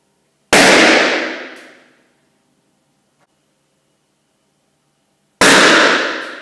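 Two sharp bangs go off in a bare room with a dark-grey painted plasterboard ceiling and no acoustic treatment. Each rings out in a long, reverberant decay of over a second, and near-silence separates the two.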